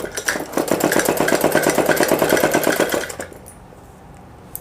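A sewing machine stitches the sleeve of a suit, its needle hammering in a fast, even, close run for about three seconds before it stops and leaves quiet room tone.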